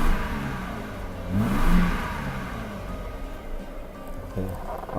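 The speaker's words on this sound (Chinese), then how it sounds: "这引擎加速起来还算顺畅" A Mercedes-Benz W126 300SEL engine rises smoothly in a single rev near the middle, then holds a steady idle rumble, heard close up with no voices over it.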